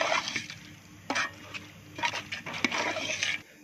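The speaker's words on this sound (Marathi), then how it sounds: "आपण पाहत असेल चिकन टाकल्यावर ते सुद्धा आपण व्यवस्थित परतून घेतोय." Chicken being sautéed with onion and tomato in a pan for chicken dum biryani, with soft sizzling under scattered spoon scrapes and clinks against the pan, fairly close and moderately quiet, without talk.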